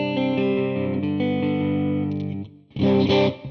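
Stratocaster electric guitar with a hot bridge pickup on a clean setting: a rich chord rings out and slowly decays, then a short, bright strum sounds near the end.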